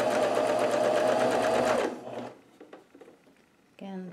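A home sewing machine stitches layered T-shirt fabric for a face mask, a loud close mechanical whir running steadily for about two seconds before stopping, followed by faint handling clicks and a brief renewed burst of stitching.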